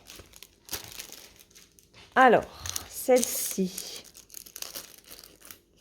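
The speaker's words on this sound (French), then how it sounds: "La protection qui s'en va." A protective plastic film is peeled and crinkled off a diamond painting canvas in a few short, sharp tearing bursts, with someone speaking briefly at a quiet moment.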